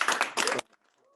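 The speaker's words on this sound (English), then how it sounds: "I would first like to give a huge round of applause to all of the students." Audience at a student event applauding the students, a brief close burst of clapping in two quick surges that cuts off abruptly into near silence with a faint tone after.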